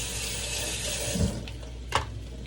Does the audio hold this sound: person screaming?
no